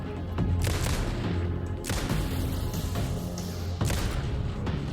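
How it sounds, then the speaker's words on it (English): A flashbang grenade goes off during combat in Alan Wake 2, part of a dense run of loud booming blasts and gunfire-like bursts that continue steadily with sharp peaks near the start, middle and end. "let's use a flashbang"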